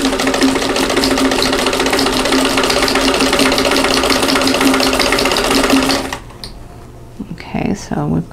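Sewing machine stitching a quilt block seam, a loud steady whirring rattle that runs for several seconds and then stops abruptly, leaving a few faint clicks and handling sounds.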